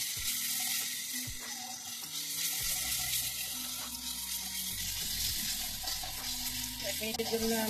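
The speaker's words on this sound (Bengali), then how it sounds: "2 চামচ আদা রসুনের পেস্ট দিয়ে দেব। আরও 1 মিনিটের জন্য আমি এগুলোকে ভেজে নেব।" Onions and ginger-garlic paste fry in a pan with a steady, close sizzle that runs the whole way, broken by occasional clinks and scrapes of stirring.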